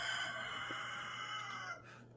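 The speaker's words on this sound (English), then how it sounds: "And the rooster crows." A rooster crows on a farm, one sustained cock-a-doodle-doo heard from a short distance that fades out near the end, with no talking over it.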